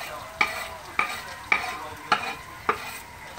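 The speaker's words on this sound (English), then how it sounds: "So I'm gonna stir my onions down in here with this garlic." Onions and garlic sauté in a pan, a spoon scraping through them in five or six evenly spaced strokes over a constant low sizzle.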